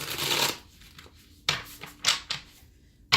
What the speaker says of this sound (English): I just shuffled that deck and I'm done with it